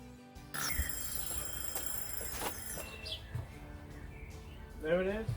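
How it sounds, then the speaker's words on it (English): A kitchen timer alarm sounds for the 20-minute boil time while brewing a honey beer, its steady electronic beeping persisting for several seconds over the bubbling of the boil, with a brief chirpy burst near the end. "That's our alarm for our 20-minute boil time."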